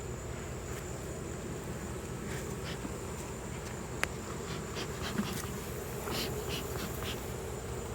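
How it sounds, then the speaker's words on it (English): Honeybees droning around an open hive in late summer, a dense steady buzz close by, with a few faint clicks and knocks from handling. "look at all those bees"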